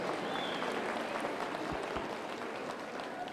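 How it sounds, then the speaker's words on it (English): Steady, fairly faint crowd applause fills the arena at a youth fair market hog show, a continuous wash of clapping with no talk over it. "Let's give him a round of applause."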